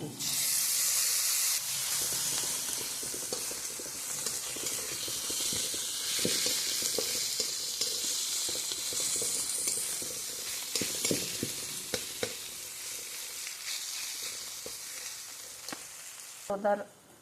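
Moth bean curry ingredients sauté in a pan with a loud, steady frying hiss and crackle close by, punctuated by scattered stirring clicks and a final sharper knock.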